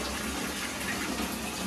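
Bathtub filling for a bath, a steady rushing gush of running water, close and continuous with no talking over it.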